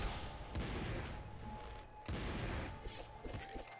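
Rocket launcher fire in the video game Nuclear Throne, heard as a dense run of loud booming blasts and explosions, with two sharp bursts standing out amid continuous chaotic gunfire-like impacts.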